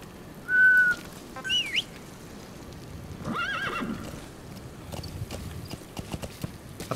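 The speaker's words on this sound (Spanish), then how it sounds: "vamos a llamar al caballo" A horse whinnies loudly amid hoof clip-clops in Metal Gear Solid V: The Phantom Pain, with bird-like whistles and faint background sound; a brief second whinny follows.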